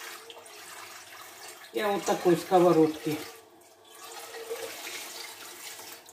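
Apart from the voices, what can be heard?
water poured out of a frying pan into a sink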